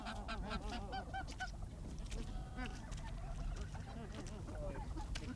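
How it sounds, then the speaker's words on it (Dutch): Wild geese honk repeatedly near decoy geese, a busy chorus of overlapping calls at moderate distance over a low background hum. "De wilde ganzen zijn neergestreken in de buurt van de lokganzen"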